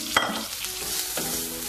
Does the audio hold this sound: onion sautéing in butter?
yes